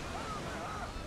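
Steady rushing wind in a Spartan-themed battle video game, a constant broadband roar filling the whole moment with no break.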